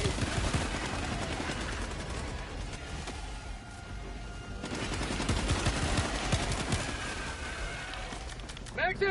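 Sustained automatic gunfire from Helldivers 2, dense rapid bursts of shots with a brief lull midway and a sharp burst at the end, loud and close throughout.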